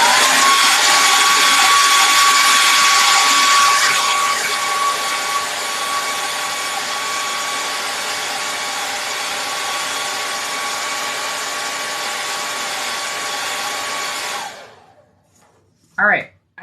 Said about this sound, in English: Hairdryer is coming on in 3,